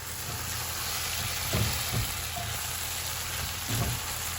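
A large batch of onions sizzling in a pan for a quick tempeh meal, making a steady close frying hiss with a few soft stirring thumps and scrapes and no voices.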